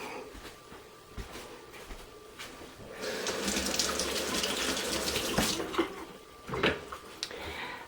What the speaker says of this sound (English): Now this tomato doesn't look the best, so I'm going to rinse it.